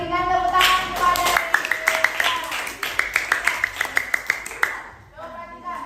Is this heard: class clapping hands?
yes